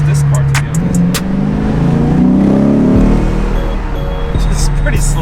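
A Lamborghini Aventador supercar accelerates, its engine note climbing through revs with a shift partway through, loud and close from inside the car, with low ambient noise and some talk mixed in.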